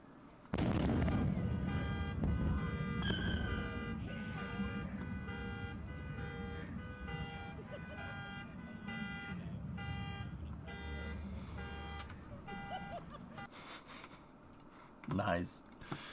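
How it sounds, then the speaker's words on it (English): A car alarm blares with repeating electronic tones over a steady low rumble and crowd noise, lasting most of the stretch before a sharp burst near the end. "car alarm's real?"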